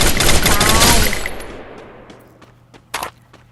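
Gunfire in the video game Free Fire: a dense, loud burst of rapid shots rings out and decays, then a single sharp shot follows a couple of seconds later.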